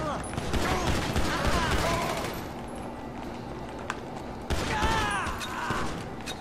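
Gunfire in GTA 5 on PS3, with bursts of rapid shots and crackling impacts in two waves, mixed with game sound effects while someone talks over it.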